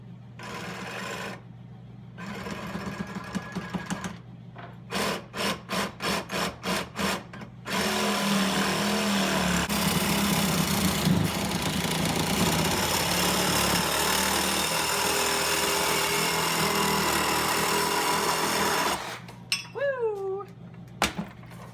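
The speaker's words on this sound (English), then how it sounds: "Just gonna cut some pie cuts out of this 3-inch exhaust here." A power tool starts and stops in short bursts, then runs steadily for a long stretch with a harsh grinding whine, cutting a 3-inch steel exhaust pipe, before cutting off.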